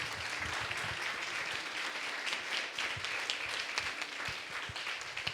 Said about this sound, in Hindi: सर्वजण उठून उभे राहूया आणि जोरदार टाळ्या वाजवून त्यांचं स्वागत करू.